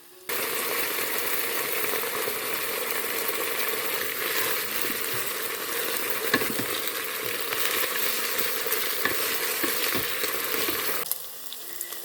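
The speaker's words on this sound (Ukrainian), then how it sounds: "Коли обсмажиться м'ясо, будемо додавати овочі." Chicken meat fries in a multicooker for pilaf, a close, steady sizzle with occasional stirring clicks, which cuts off abruptly near the end.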